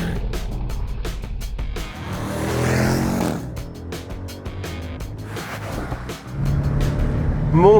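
A Jeep Trackhawk's petrol engine runs and revs, its rumble rising and falling across the clip, swelling to a stronger surge toward the end.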